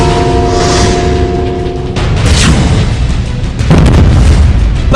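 Army encounter with militants at dawn in Budgam, Kashmir: a loud, close explosion blast booms out, followed by more heavy rumbling bursts over a continuous roaring background.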